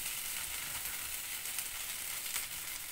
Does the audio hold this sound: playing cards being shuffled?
no